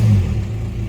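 Inside a VW MK5 Golf with an ASZ/ARL engine swap and the exhaust removed, a steady low engine drone rumbles loudly and continuously, with a slight surge at the start.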